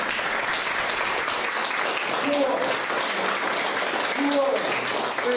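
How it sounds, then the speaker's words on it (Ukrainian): Audience applause at a Kyiv museum exhibition opening for painter Andriy Kulagin: a steady, full wash of clapping throughout, with faint voices and brief tonal sounds surfacing in the middle. "Я прошу, щоб ви його викупали в зливі аплодисментів."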